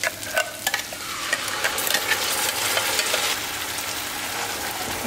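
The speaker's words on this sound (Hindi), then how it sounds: "अभी इसमें ही हम अपनी बनी हुई ग्रेवी डालेंगे" Gravy being stirred into kadai paneer as it fries in a pan, with a steady sizzle under repeated scraping and stirring strokes that grow busier midway, close and clear with no talking.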